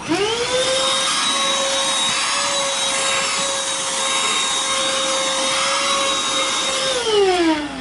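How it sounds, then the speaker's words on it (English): A vacuum runs at a steady loud whine for several seconds, clearing clipped hair from a patient's skin, then winds down in pitch near the end. "Alright, so we'll do a final vacuum."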